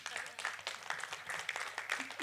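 Applause from a conference audience at the ACURIL 2025 general assembly in Curaçao, greeting the Professional of the Year award, a steady, fairly faint patter of many hands throughout the short stretch.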